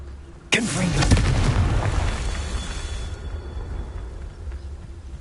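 A fiery Confringo spell blast in Hogwarts Legacy erupts with a sudden loud boom, followed by a rumbling, crackling roar that slowly fades away.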